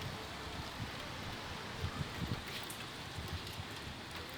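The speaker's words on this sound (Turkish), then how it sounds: "arabalara düşen yağmur damlalarının sesini duyacaksınız" Steady rain pours down on parked cars in a German summer shower with a dense, hissing patter, a few louder drops tapping on hard surfaces nearby, no voices.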